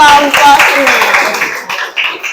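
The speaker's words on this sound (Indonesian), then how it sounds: "tepuk tangannya untuk kelompok ini" Classroom applause for a student group after a discussion, a dense burst of many hands clapping at once that stays loud for about two seconds before thinning out and fading.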